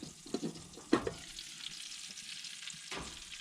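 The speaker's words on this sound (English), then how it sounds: "I can hear those sizzling away in there" Food sizzles in a pan over a campfire outdoors, a faint steady crackle and hiss with a few louder clinks and pops in the first second and near the end.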